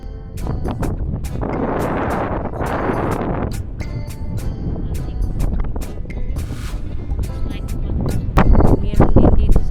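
Strong gusts buffet the microphone on a rocky coastal hiking trail at Chung Hom Kok, Hong Kong, a loud rumbling roar that surges and fades, with a person talking intermittently over it.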